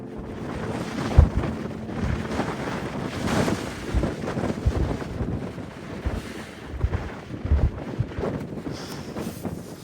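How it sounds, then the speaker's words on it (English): Cold wind blows steadily at a camp near the high point of the Big Maria Mountains, roaring and gusting against the microphone with broadband rumble and buffeting and no talk. "and it's windy and cold."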